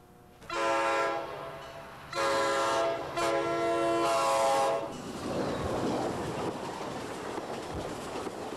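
A Conrail train horn blows at a downtown grade crossing in Ashland, giving three loud sustained blasts, the last one longer, followed by the rumble of the passing train.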